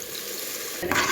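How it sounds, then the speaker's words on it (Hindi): Frying potatoes for aloo keema sizzle softly, then water is poured into the pan with a sudden splash and hiss near the end. "अब मैं इसमें पानी डाल के इसको रख दूँगी।"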